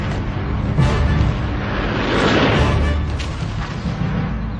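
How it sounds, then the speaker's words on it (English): Archive war footage of anti-aircraft guns and SAM missiles firing against Israeli planes during the Egyptian offensive, a loud, rumbling barrage of booms blurring into a continuous roar, with rough, dense low-end thuds. "SAM missiles and anti-aircraft guns caused havoc."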